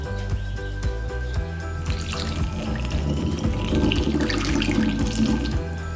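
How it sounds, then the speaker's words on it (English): Whiskey poured through a funnel into a jar of Madagascar vanilla beans, a steady close gurgling stream of liquid that continues for several seconds without talk. "I'm just going to take my funnel and put in the whiskey"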